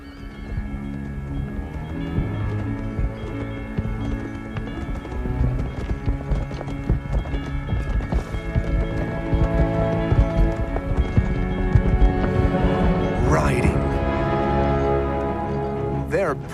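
A group of horses moving across open ground, with steady rhythmic clip-clopping hooves heard continuously under a narrating voice, with a faint whinny near the end.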